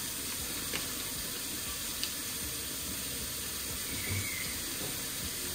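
Hot water runs from a kitchen or sink tap into a container for mixing with cleaner, a steady soft broadband rush with small splashes, heard alone at moderate distance.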